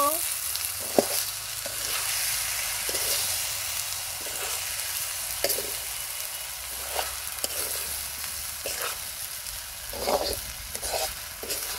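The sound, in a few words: polao rice being stir-fried in a pan with garlic and onion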